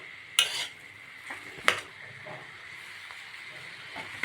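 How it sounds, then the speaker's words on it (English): Potato samosa filling with nuts being stirred in a pan, with a few scraping clinks of the spoon at the start and middle over a faint steady sizzle-like hiss. "Now mix everything well."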